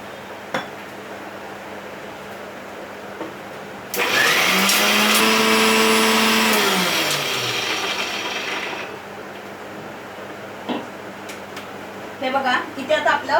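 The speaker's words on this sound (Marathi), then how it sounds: "इथे आता आपलं शेंगदाणे आणि सुकं खोबरं वाटून झालंय" A kitchen mixer grinder coarsely grinds skin-on peanuts and dry coconut, roaring up loudly after a quiet stretch and whirring steadily for about five seconds before winding down, followed by faint clinks and brief voices.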